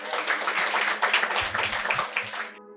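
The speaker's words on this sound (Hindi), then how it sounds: "एक बार उसके लिए भी ताली हो जाए।" An audience claps together for a few seconds, a dense, steady patter of many hands that cuts off abruptly at the end, with a voice briefly audible underneath.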